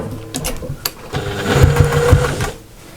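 Domestic sewing machine running a line of stitching at stitch length 3 around the edge of a fabric pouch with a front side pocket, a steady mechanical whir with a short burst of rapid needle thumps.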